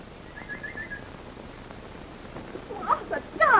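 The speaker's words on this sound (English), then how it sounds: "The nightingale." A nightingale sings in a 1929 film scene, with brief chirps early on and a louder burst of trills near the end over a quiet, hissy background.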